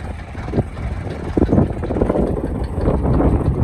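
A low, steady tractor engine drone rumbles continuously while spraying herbicide on a soybean field, with some rattling and rough broadband noise, close and fairly loud with no talking.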